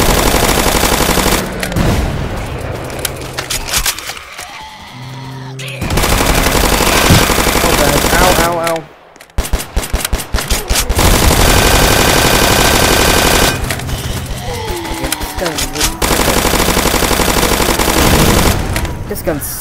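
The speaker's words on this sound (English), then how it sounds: "We're shooting down some zombies." Rapid automatic gunfire blasts at zombies in the Roblox game Zombie Uprising, loud and sustained in long bursts with brief pauses, a short near-silent gap midway, then heavy firing resumes.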